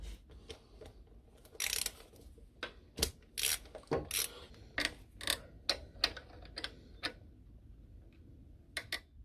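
Ratchet clicking and rasping in irregular bursts while loosening the rear wheel nut on a Lexmoto Vixen 125 motorcycle, close by with short pauses between strokes.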